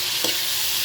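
Chicken, a budget cut of Filipino ulam, sautéing in a pan, giving a steady broadband sizzle with a brief stir or scrape near the middle, close and continuous with no talk.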